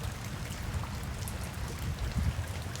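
Steady rain falling during a desert thunderstorm in Namibia, a dense continuous patter of thick drops close by with no voices.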